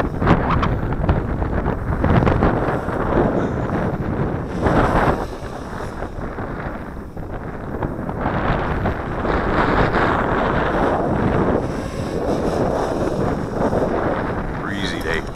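Strong gusts buffet the microphone outdoors, a loud rumbling roar that swells and dips unevenly throughout, with occasional rustling and no clear talk.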